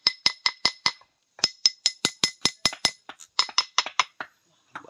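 Hardened cement is tapped in rapid runs of sharp, bright clinks, about twenty hits in bursts with short pauses between, close and moderately quiet, sounding almost metallic.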